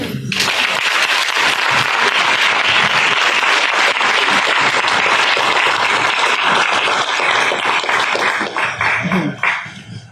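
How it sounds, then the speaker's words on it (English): Loud, dense audience applause for Gus and Anderson fills the room without letup for several seconds. Cheers and whoops mix into it, and near the end it thins out and trails off. "Let's give Gus and Anderson just one more round of applause."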